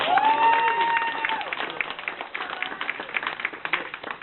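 A crowd breaks into loud applause, many hands clapping together, while a brief whistle or cheer rises at the start.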